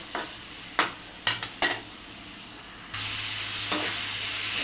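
Greens for a tengra fish curry hiss and sizzle in a hot pan, with several sharp utensil scrapes and clanks near the start and then a louder, continuous frying hiss, close by and without speech.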